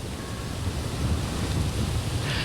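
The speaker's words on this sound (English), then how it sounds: "we've been seeing wind gusts between 20 and 30 miles per hour" Strong wind gusting during a blizzard, a steady loud roar of rushing air buffeting the microphone with low rumbling throughout.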